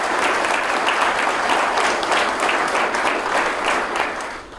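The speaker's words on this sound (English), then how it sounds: "Another round of applause" A conference crowd gives dense, steady applause honoring a firefighter's 50th anniversary of service at a fire chiefs' installation, sustained throughout and tapering slightly at the end.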